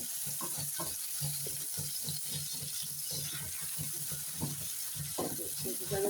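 Onions and green chillies fry in a pan with steady close sizzling, punctuated by rhythmic scraping and stirring strokes, moderately loud with a faint hiss over the top.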